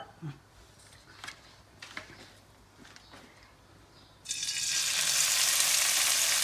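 Dried anchovies, Palakkad-style unakka netholi, drop into hot oil and burst into a loud, steady sizzle of frying that continues to the end, after a few seconds of quiet kitchen clatter.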